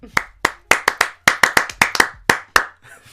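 A single person claps out a rhythmic pattern, about a dozen sharp, close, distinct hand claps in an uneven beat with brief pauses, ending in a softer patter.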